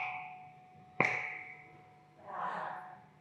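A single sharp click sounds once, fairly quiet against a low background hum, followed by a soft swell of noise.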